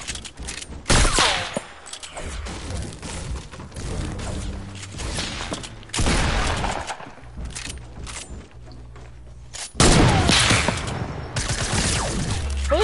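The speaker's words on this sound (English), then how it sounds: "So I see we're using shotguns right now" Video-game shotgun fire booms out in loud, separate blasts spaced a few seconds apart, with mechanical clatter and footsteps between shots.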